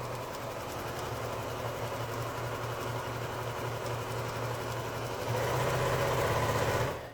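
A sewing machine runs steadily, stitching quilt triangles with right sides together, a continuous close mechanical whir with a low steady hum that grows slightly louder near the end before stopping abruptly.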